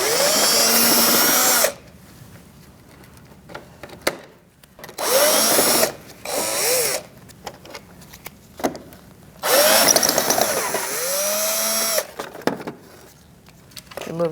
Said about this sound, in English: We're going to remove these 3 Phillips head screws